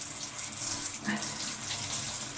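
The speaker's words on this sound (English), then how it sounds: "I'll turn the tap off or the shower off" Water from a shower or tap runs steadily as a close, continuous hiss, with a brief dip near the middle.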